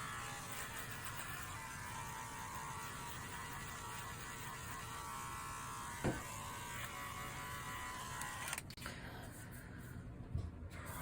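Electric clippers buzz steadily while grooming a white dog set on a white washing machine under bright overhead light, the motor drone continuous with a few faint clicks and knocks, no talk over it.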